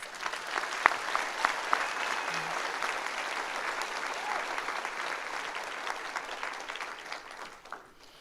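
Applause from the audience at a college commencement ceremony, a broad, even wash of many hands sustained for several seconds before tapering off at the end.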